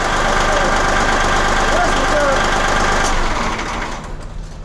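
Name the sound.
truck engine idling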